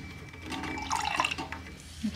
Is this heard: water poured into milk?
yes